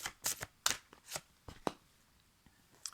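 Tarot cards shuffled by hand in a series of quick riffling bursts, loud up close at first then thinning to a few softer flicks, with no talk over them.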